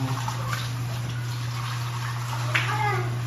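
Water poured steadily into a pot of chicken adobo with potatoes, a continuous splashing close by over a low electrical hum, with a faint voice briefly present.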